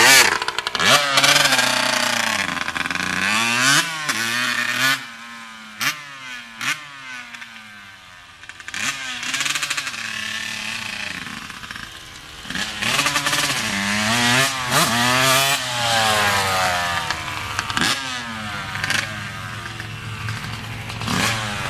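Dirt bike engine revving up and down through gear shifts, with repeated rising and falling pitch sweeps and brief dips as the clutch is pulled, loud and close throughout.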